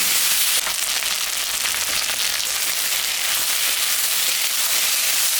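A vegetable curry of potato and taro stems fries loudly in a pan, giving a dense, continuous hiss that holds steady at close range for the whole stretch, with no voices over it.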